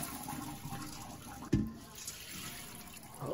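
Water is poured off soaked rice to drain it while making makgeolli rice wine, a soft trickling splash with one brief, sharper gush in the middle, fairly faint and close.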